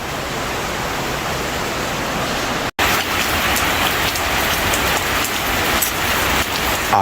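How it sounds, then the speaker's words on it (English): Steady outdoor rain hisses evenly and fairly loudly throughout, with a brief dropout near the middle and no voices. "let me just take in some nice rain on a Wednesday"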